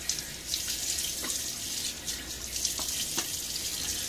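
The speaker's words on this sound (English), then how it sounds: "Throw a little water on my face." A tap runs continuously into a sink as water is splashed on the face while shaving, with a steady hiss and a few brief splashes, fairly quiet with no talk.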